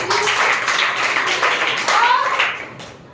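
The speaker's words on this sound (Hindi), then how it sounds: "चलिए पंचरत्न कुमार के लिए तालियां" A school quiz audience claps for the winner, a short burst of clapping mixed with voices, fading away toward the end.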